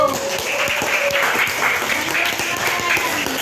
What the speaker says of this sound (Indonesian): Ya, tepuk tangan dulu buat Nando.